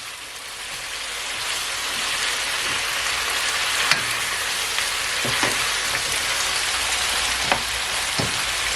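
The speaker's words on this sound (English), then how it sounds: "You can see it is sauteed and fried just a little bit." Jamaican curry chicken fries in a pot with a steady, loud sizzle and crackle, while occasional utensil knocks and stirring taps stand out above the frying, and no one speaks.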